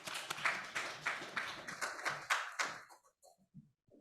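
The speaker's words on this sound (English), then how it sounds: "a round of applause for our panelists" A small panel audience gives a short round of clapping, a handful of hands heard as separate close claps that thin out into a few scattered taps before falling silent.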